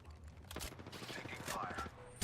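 Rapid bursts of video game gunfire crackle through a sci-fi shooter battle during a landing, repeated shots and impacts packed closely over a steady hum of game effects.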